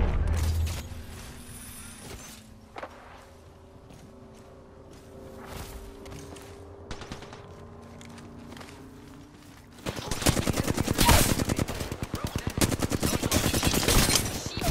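Rapid gunfire in a multiplayer shooter video game: scattered single shots and clicks first, then a dense, loud burst of automatic fire through the final seconds, with players talking over it.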